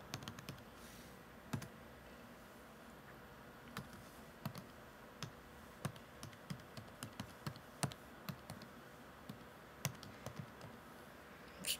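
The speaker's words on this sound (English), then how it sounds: "I'm going to type the URL now into" Quiet typing on a computer keyboard as a podcast web address is entered, with irregular key taps and occasional louder clicks spread across the whole stretch, no voices.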